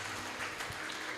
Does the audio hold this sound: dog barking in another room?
no